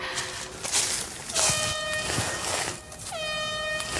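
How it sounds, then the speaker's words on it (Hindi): An air horn blares twice in an outdoor wilderness setting, the first blast mid-clip and a second, stronger blast near the end, each a steady tonal honk over rustling background noise. "हॉर्न बज रहा है"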